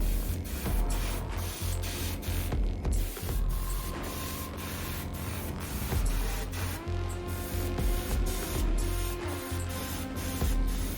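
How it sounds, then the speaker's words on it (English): An airbrush sprays paint onto Warhammer 40k Space Wolves Incursors miniatures in short repeated bursts of hissing air with brief pauses between them, close and moderately quiet. "I might, for the first time ever, put maybe just enough paint in the airbrush here."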